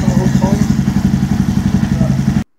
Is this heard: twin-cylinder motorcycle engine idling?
yes